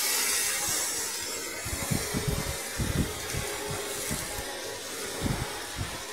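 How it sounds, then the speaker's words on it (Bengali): Soaked, mashed banana stem hits hot oil with mustard seeds and dried chillies in a kadai, setting off a loud, continuous sizzling hiss with irregular crackles and pops close by. "ভিজিয়ে রাখা মেখে রাখা থোড়টা ঢেলে দিলাম।"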